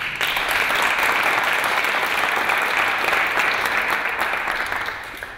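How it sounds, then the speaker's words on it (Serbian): Audience applause fills a hall before a talk on going to Mars, loud and steady clapping from a seated crowd that holds for about five seconds, then begins to taper. "običaj da ih ohrabrimo pre nego što počnemo jednim zajedničkim aplauzom"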